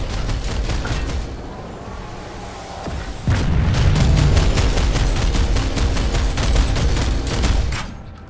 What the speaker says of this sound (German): Oh, wir werden aus der Luft beschossen.